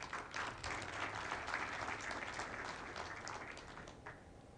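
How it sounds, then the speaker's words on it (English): Conference audience breaks into sustained applause, many hands clapping together in a dense roomy wash that gradually thins and fades toward the end. "And it does deserve to be clapped for."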